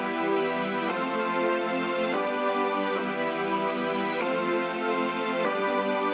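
Layered warm synth pads built in FL Studio swell through repeating chord changes roughly every second, each change bringing a bright sweeping attack that fades, forming a full, steady wash with no voices.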